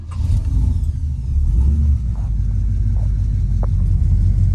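A 1985 Chevy C10 pickup's engine runs close by with a steady, low, continuous rumble, alone and with no talking.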